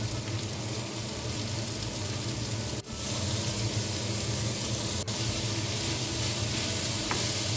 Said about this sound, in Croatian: Malo mešamo da nam ne zagori.